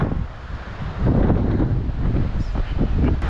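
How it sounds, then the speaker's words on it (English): Strong wind roars and buffets the microphone in loud, continuous gusts on a mountain summit at Tinker Cliffs on the Appalachian Trail near Catawba, Virginia, with no one speaking. "It is windy."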